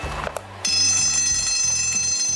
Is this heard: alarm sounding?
yes